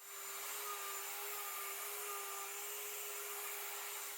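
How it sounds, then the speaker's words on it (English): A router riding on a router sled planes the surface of an epoxy chess board in passes, making a steady, droning whine with a constant pitch over airy noise. "I'll just take about 1/8 of an inch off with each pass with my router as I go back and forth"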